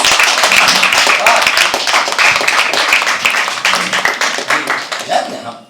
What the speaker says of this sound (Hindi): एक बार जोरदार तालियां ले आते सभी।